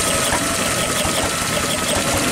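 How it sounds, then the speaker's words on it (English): An antique engine drones loudly and steadily, with a thin high whine from the generator it drives, powering a 1900 carbon arc lamp, layered over the constant mechanical hum. "You can hear the generator whine a little bit."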